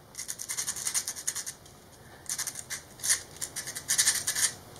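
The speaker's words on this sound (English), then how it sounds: "if I just go over it with a little bit of sandpaper" Sandpaper rubbed over the top of a lithium battery cell: close, faint raspy scratching in short rhythmic bursts of back-and-forth strokes, with a brief pause partway through.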